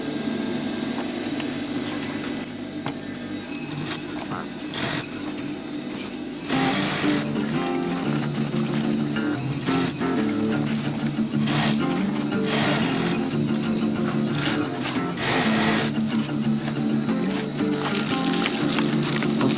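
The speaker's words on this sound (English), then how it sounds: "sewing the Velcro on the bottom part. 3 centimeters from the bottom." A sewing machine stitches Velcro onto the bottom part of a DIY sustainment pouch, running in steady bursts with brief pauses and a louder stretch of continuous stitching midway, close and alone.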